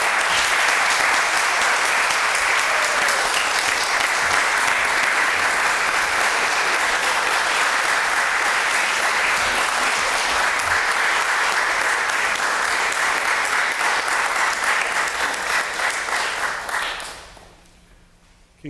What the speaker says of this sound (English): Can we clap, please?